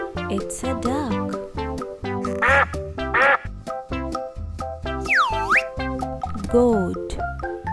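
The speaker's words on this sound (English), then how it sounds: "Duck. It's a duck." Repeated cartoonish duck quacks from a toddler farm-animal learning song, loud and close over bouncy music, with several squeaky boing-like effects in between.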